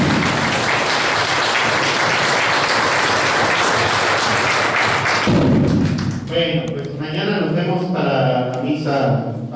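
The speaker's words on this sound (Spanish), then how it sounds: "En estas vísperas y en esta primera misa de un fuerte aplauso a San José, el esposo de la Virgen María." Congregation applauds Saint Joseph during a feast-day Mass in church: a loud, dense burst of clapping for about five seconds, then it stops and a voice takes over.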